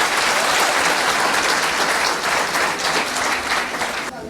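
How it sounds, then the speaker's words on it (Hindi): Loud audience applause fills a business seminar hall, a dense, continuous roar of many hands clapping close and strong, then cutting off abruptly near the end. "मैं चाहूंगा इनके लिए जोरदार तालियां बजाइए आप"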